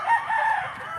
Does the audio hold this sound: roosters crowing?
yes